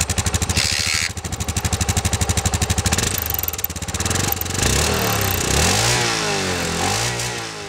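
Single-cylinder Yamaha SR 400 motorcycle engine, kick-start only with no electric starter, firing into a steady loud thumping idle, then revving up and down in several rising and falling surges, close by with no talk.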